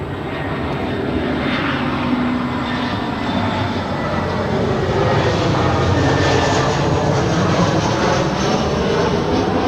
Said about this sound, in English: Alaska Airlines Flight 350 coming in from Portland, Oregon. It's on an A320.